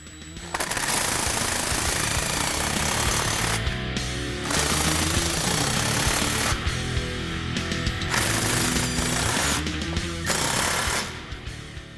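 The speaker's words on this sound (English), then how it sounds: "Now you can tighten all the clamps." A rapid, loud pneumatic impact tool rattles in long continuous bursts separated by short pauses while clamps are tightened on an aFe cat-back exhaust on a 2007 Jeep Wrangler JK.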